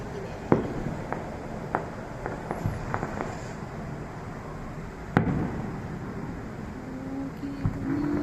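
Fireworks bursting at a distance during a December night display, a series of faint sharp pops and cracks spread irregularly, with one louder bang midway over a quiet outdoor background.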